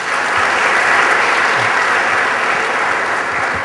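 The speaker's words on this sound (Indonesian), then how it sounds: "Beri aplaus" A church audience claps at the close of a Christian talk, a steady, dense wash of applause that holds at full strength throughout without voices on top.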